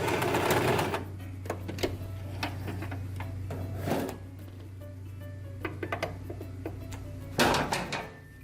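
A sewing machine stitches fabric for a plastic bag holder, a steady mechanical hum with rapid needle clatter running throughout, punctuated by brief bursts and pauses near the start, middle and end.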